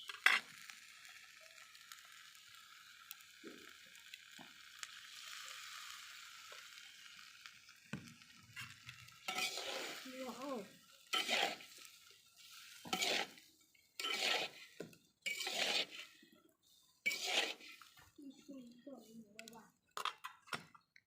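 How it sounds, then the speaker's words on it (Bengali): Cauliflower pieces hit hot oil seasoned with panch phoron in a pan over a clay stove, a steady hiss of frying followed by repeated clinks and scrapes of a spatula stirring, close and moderately loud. "আমি সেই তেলে কিছু পাঁচফোড়ন দিয়ে তাতে কেটে রাখা ফুলকপিগুলো দিয়ে দিলাম"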